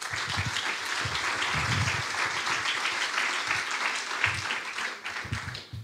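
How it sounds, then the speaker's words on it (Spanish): An audience at a conference gives a strong round of applause, continuous dense clapping from many hands, with low voices or cheers occasionally showing through. "Desen un fuerte aplauso por estar aquí"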